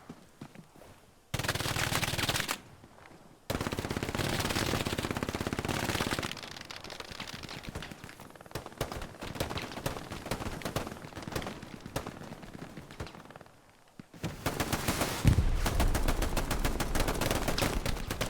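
Battlefield gunfire in the World War II shooter Hell Let Loose, an 18-versus-18 match: dense machine-gun bursts and rifle shots crackle loudly in overlapping volleys, with brief quieter gaps between heavy stretches of fire.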